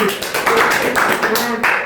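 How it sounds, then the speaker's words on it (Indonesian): A class of fourth-grade pupils clapping their hands together in a classroom, brief rhythmic group clapping with voices mixed in. "tepuk tangan buat kita semua"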